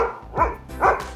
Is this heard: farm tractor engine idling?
no